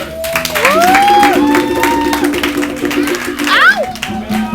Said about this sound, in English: Y'all clap it up, man.